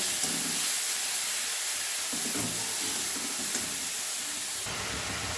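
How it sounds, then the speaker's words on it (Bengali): Spice paste frying in hot oil for a fish curry with jiol fish gives a loud, steady, close hiss and sizzle that carries through without pause or voices. "মশলাটা কষিয়ে নেব যতক্ষণ মশলা থেকে তেল ছেড়ে না দেয়"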